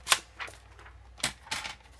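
Paper being cut for a handmade autumn-themed mini album, heard as a few sharp, close clicks and snips spread across a quiet background, with no talking.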